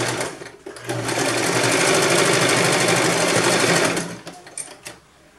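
A sewing machine runs in one fast, steady burst of rapid stitching while a blouse seam is sewn, then stops, followed by a few soft handling clicks.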